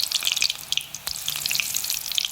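Chakli made from moong dal and wheat flour fries in hot oil, giving a bright, busy crackle of tiny bubbling pops, close and steady, with one brief dip midway.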